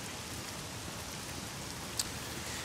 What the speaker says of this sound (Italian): Sento la pioggia sul controller.